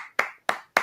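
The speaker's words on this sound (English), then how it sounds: "We'll give him a clap." Three sharp claps, evenly spaced and loud, ring out alone with a short echo after each one.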